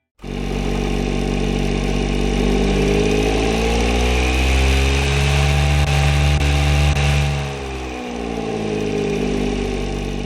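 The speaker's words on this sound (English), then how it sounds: "let's give you here what this engine sounds like right now" A loud car engine in a car-building video game revs high and holds a droning pitch, dips briefly, then climbs again, alone without any talking.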